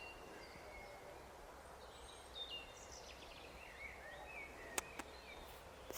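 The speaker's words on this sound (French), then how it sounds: "Vous entendez les oiseaux?" Faint birdsong in a vegetable garden at sunset, scattered thin chirps and whistles drifting over a steady low outdoor hum, with a couple of sharp clicks near the end.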